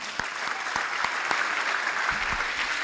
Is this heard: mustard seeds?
no